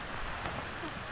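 Rain falls steadily on a village near the foot of a mountain, a dense, even hiss throughout with no voices.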